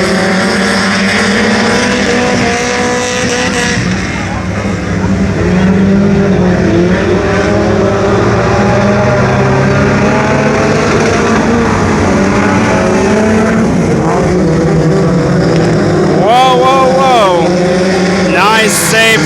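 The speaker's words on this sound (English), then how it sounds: "Green flag out for heat race number 3." Race cars roaring around a dirt speedway at the green flag of a heat race, a loud continuous engine drone with rising and falling revs and a sharp whine near the end, an announcer talking over it throughout.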